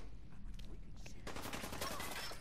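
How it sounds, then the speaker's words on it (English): Fallout 4 gunfire crackles faintly in rapid bursts, a distant fusillade of shots growing denser and brighter partway through, set against low game ambience. "Where's the shooting?"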